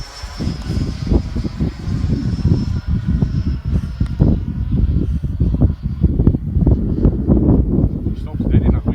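A Freewing L39 RC model jet flies on a bitterly cold, windy day, its ducted-fan whine steady overhead while heavy wind buffets the microphone throughout, loud and close.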